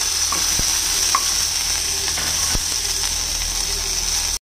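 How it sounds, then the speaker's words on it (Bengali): Onions frying in a pan, heading toward light brown for chicken lababdar, give a steady close sizzle. A few sharp scrapes of stirring cut through it now and then, and no one speaks. "এবার পেঁয়াজটাকে হালকা করে হালকা ব্রাউন করে ভেজে নেব।"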